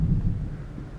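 Low rumbling thunder from a film storm scene, a deep continuous roll lasting about a second, fairly loud, with no voices over it.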